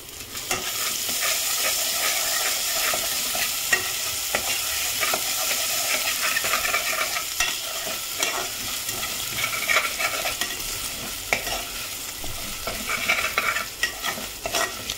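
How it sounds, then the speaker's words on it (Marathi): Chopped onion fries in a pan as ginger garlic paste is stirred in for a quick village-style chickpea curry, giving a steady loud sizzle broken by scraping spoon strokes, with no voices. "आता मी आलं लसूण पेस्ट यामध्ये टाकणार आहे"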